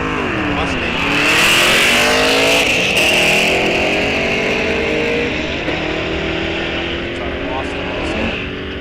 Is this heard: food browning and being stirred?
no